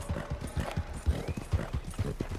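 Horse hooves clip-clop in a steady rhythm with a brief whinny in Red Dead Redemption 2, close and moderately loud throughout.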